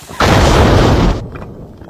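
Booby-trap explosion in a war film set in the 1945 Soviet–Japanese war: a single loud, deep, close boom that cuts in sharply, roars for about a second, then fades into a low rumble.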